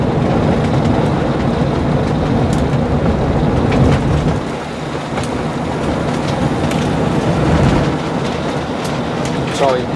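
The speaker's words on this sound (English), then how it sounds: "So that's roughly 44-45 miles an hour on a very bumpy gravel road" A 1964 Cadillac convertible cruising at about 45 to 50 mph on a very bumpy gravel road, with continuous loud rumbling road and tire noise and occasional knocks and rattles from the bumps, all recorded from inside the car.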